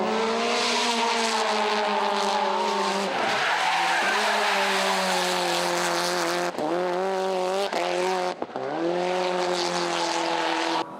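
Subaru Impreza WRX STI GDB-F with a flat-four EJ20 drifting nearly sideways, left foot on the brake, tires skidding and squealing loudly and steadily over a high-revving engine, with a few brief dips in pitch along the way.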